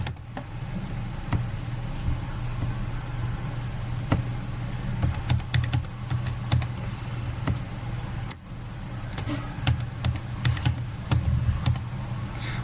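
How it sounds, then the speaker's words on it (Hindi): Someone types an address on a computer keyboard while filling in an income tax return form online, with scattered clicks and short runs of keystrokes over a steady low hum, fairly close. "एड्रेस टाइप करेंगे आधार के अकॉर्डिंग।"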